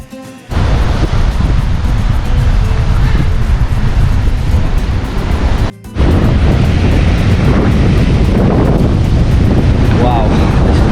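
Rough ocean waves crash against a rocky shore in Mexico as wind buffets loudly and steadily, a dense roaring wash broken by one brief dropout midway.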